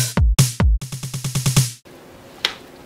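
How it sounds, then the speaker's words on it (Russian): A snare drum roll builds up in a pop transition, starting with a few single hits and speeding into rapid repeated strokes that grow louder, then cutting to a quiet tail with one faint hit. "Это звук нарастающего малого барабана или типа того."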